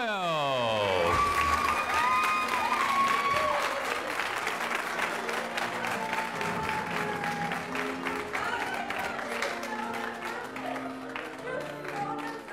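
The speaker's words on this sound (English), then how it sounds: "Once again, a big round of applause for all of our girls" Audience applauds loudly and steadily at the Miss Rodeo California 2012 coronation as Mackenzie Cayford is crowned, with clapping filling the room for the whole stretch and some cheering mixed in, while an announcer's amplified voice carries over the top.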